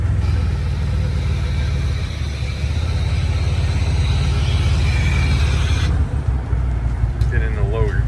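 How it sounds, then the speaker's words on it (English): A concrete truck pulls up at a driveway pour site, its diesel engine rumbling steadily and loudly close by, with brief rises in the revs near the end. "The concrete truck just pulled up"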